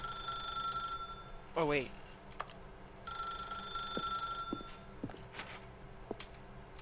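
A telephone rings in the video game The Stanley Parable with bright, repeated electronic trills in two bursts across the clip. Someone speaks briefly, and a quick rising warble cuts in near the start.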